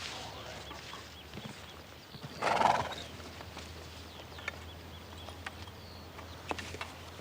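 A lame horse gives a short whinny that rises briefly out of quiet outdoor ambience, with a few faint scattered knocks of hooves and what may be distant fowl afterward.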